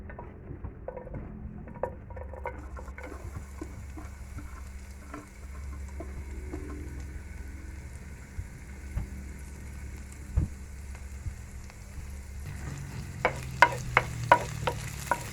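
Onion and garlic sautéing in vegetable oil in a pot over a very low flame. A faint, steady sizzle carries scattered light clicks of stirring, and toward the end a quick run of louder scraping taps comes in.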